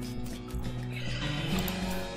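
A horse whinnies in the video game West of Loathing, a rising, wavering neigh heard clearly over a steady game soundtrack, with no voices.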